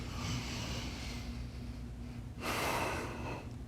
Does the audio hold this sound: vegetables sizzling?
no